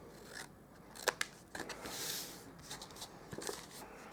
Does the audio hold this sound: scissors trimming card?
yes